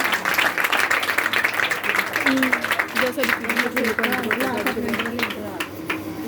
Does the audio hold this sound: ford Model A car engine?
no